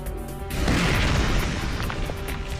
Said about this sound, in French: L'explosion a fait des dégâts considérables.